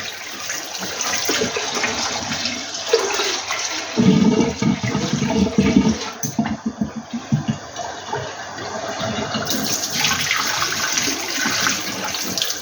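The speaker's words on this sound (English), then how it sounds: "So you want to do this so the water runs as clear as you can get it, really." Red lentils being rinsed under a running tap, with a steady broad rush of water throughout and heavier splashing and sloshing in the middle as the grains are swirled by hand.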